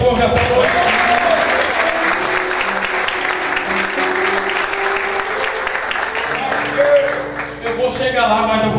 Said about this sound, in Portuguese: Alguém pode aplaudir ao Senhor nessa noite?